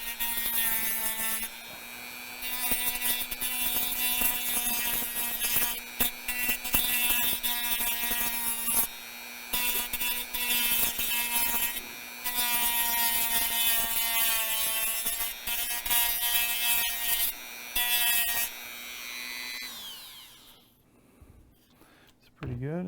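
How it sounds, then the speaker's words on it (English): A rotary sander flattens a wooden cross member for a competition model bridge with a steady, loud, high-pitched whine and brief dips in pitch. It runs for about twenty seconds and then spins down to a stop. A voice speaks intermittently under the noise. "To use our rotary sander again and just try and get this as flat as possible."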